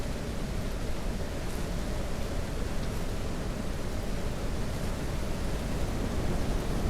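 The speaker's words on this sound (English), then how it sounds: "It's starting to rain, or actually it is raining now." Steady, dense hiss of rain falling in the video game Ranch Simulator, an even wash of noise with no breaks and no voices.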